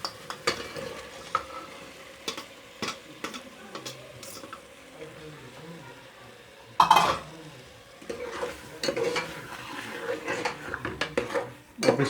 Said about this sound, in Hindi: अब इसको भूनेंगे अच्छी तरह।